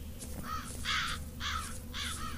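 Crow in the horror game Mental Hospital IV, cawing three times in an even rhythm over a low ambient hum, no talk.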